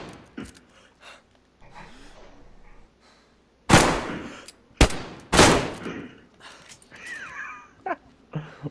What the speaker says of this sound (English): Are you guys shooting unsuppressed?